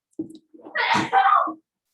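A single sneeze close by: a short sharp intake, then a loud explosive burst trailing off, all over in about a second and a half.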